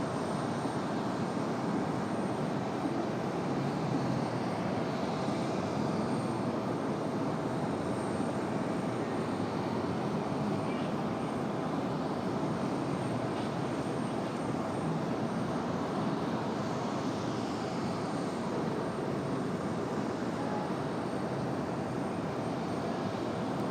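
JetBlue airliner at Raleigh Durham airport, a continuous broad engine roar holding steady and fairly loud throughout, with no pauses.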